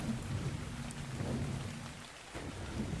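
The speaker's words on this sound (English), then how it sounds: "it's raining out in the desert" Steady rainfall with low rolling thunder in a desert in the game Ark Survival Evolved, a soft even hiss over a deep rumbling bed with occasional faint drop ticks, fairly quiet and constant.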